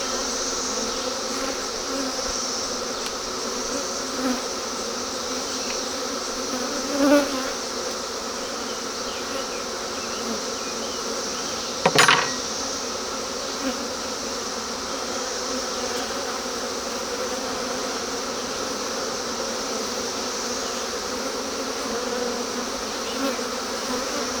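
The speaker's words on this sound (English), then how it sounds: "That's the best, healthiest beehive I've ever had. Bees are just everywhere." Steady, dense buzzing of many honeybees fills the air around a hive, constant throughout, with a couple of brief closer passes.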